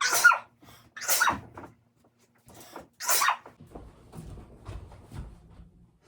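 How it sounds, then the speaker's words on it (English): A few sharp sneezes, close and fairly loud, separated by short pauses, followed by quieter breathing and small movement sounds. "oh, I feel like I'm gonna sneeze"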